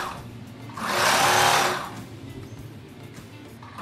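A sewing machine stitches a seam on a polka-dot blouse at high speed, a close, loud burst of rapid whirring that swells for about a second and then falls back to a quieter background hum.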